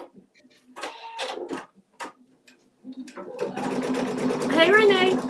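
An embroidery sewing machine stitches a stippling pattern on a quilted mug rug, a steady mechanical whir that builds over the second half, with people talking in between and over it.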